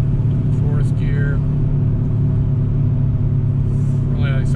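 A 2003 VW Beetle TDI cruises in fourth gear at low speed, its diesel engine a steady, loud low drone with road rumble, plus faint squeaks at intervals.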